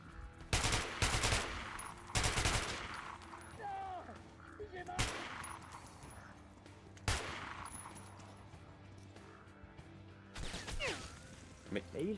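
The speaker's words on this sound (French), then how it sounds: "Mais qui me tire dessus là?" Gunfire erupts in the video game Metro Last Light Redux, with several sharp, loud shots and bursts scattered across the scene between quieter stretches.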